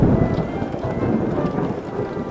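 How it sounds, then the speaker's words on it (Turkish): Steady rain pours down with a low rumble of thunder underneath, a continuous stormy wash of sound in a children's cartoon. "Keşke fırtına artık bir dursaydı."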